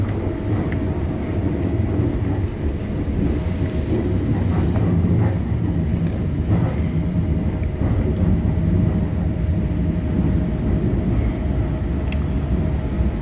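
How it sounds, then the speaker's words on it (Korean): Express train bound for Munsan running on rails, a continuous loud rumble and rolling drone heard up close from aboard, with faint clatter throughout and no talk. "예, 문산방 급행열차."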